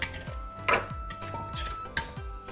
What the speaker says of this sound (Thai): คนให้เข้ากันก่อนนะคะ